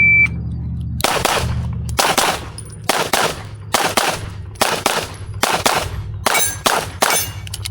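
Pistol gunshots during USPSA shooting practice: about nine sharp, loud shots in quick succession with brief gaps between them, with clanging and ringing after some shots, following a low steady hum before the first shot.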